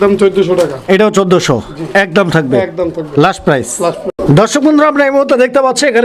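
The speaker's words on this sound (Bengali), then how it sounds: "আরো এক জোড়া কালারিং রাজগোল্লা কবুতরের পেয়ার" Lahori colouring Rajgolla pigeons coo softly in a pigeon sale setting, the low warbling calls mixed under a man's close, continuous talking.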